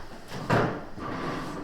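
A big old oven door creaks open with a short, loud thud-like burst near the middle, followed by a lower rumbling scrape as it settles, close and fairly quiet overall with no talking.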